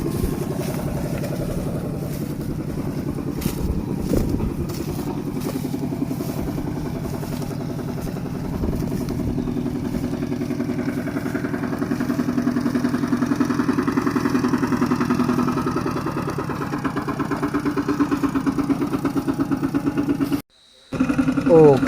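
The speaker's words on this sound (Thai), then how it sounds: "ตอนนี้กะไทเฮากำลังเอารถไถแก้เข้าไปกองร่วมกันเนาะ" A walking tractor engine hauling rice to the threshing yard chugs steadily with a clattering mid-pitched drone throughout, briefly cutting out near the end.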